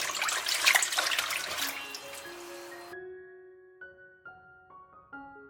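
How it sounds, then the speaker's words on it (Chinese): Broccoli head being rinsed under running tap water in a kitchen sink after soaking in salted water, a steady close splash and gush that gives way to scattered drips and small hollow plinks. "趁这个时候，我们来洗一颗西兰花。"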